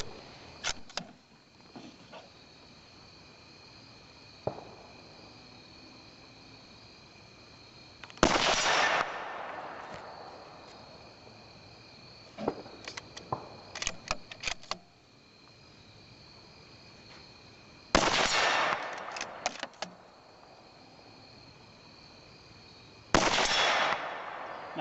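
Three or four sharp reports from a Savage Ashbury rifle ring out outdoors several seconds apart, each followed by a short echoing tail. Insects chirp in the background, with smaller clicks and handling noises between the shots.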